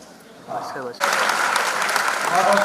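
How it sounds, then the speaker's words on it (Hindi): Studio audience breaks into loud, sustained applause for performer Hitashi at a Nayii Udaan show, starting abruptly after a brief spoken line and continuing as a dense wash of clapping. "हिताशी के लिए एक बार और जोरदार ताली"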